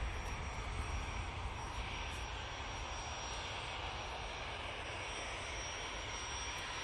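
Embraer Praetor business jet taxiing nearby at an airport, a steady, loud broadband engine roar and whine holding constant throughout, with no talking.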